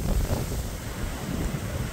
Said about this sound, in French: Désolé pour le vent, je ne sais pas si vous entendez bien.